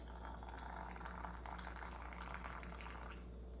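Boiling water pours steadily into a container of yucca flowers and apple cider vinegar, a soft continuous splashing gurgle close by, with no voices.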